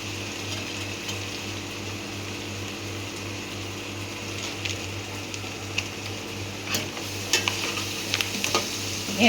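Leftover rice is being prepared with a spiced tempering in a pan: a steady broadband sizzle of hot oil runs throughout, with a low hum and a few scraping, clinking stirs near the end.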